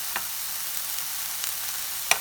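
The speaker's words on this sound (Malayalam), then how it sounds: "ഇനി ഇച്ചിരി ഉപ്പൂടെ ചേർത്ത് വഴറ്റിയെടുക്കാം." Vegetables sauté with salt in a hot pan for a stuffed omelet, a soft steady sizzle with a couple of brief stirring scrapes and clinks, close and quiet.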